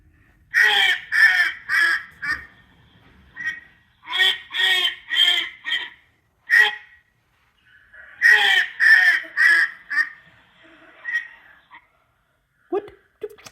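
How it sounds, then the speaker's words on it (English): Loud, nasal quacking in three bursts of rapid repeated calls separated by short pauses, close and clear with no talking. "I know what it is. I seen this one on the farm. That's a duck."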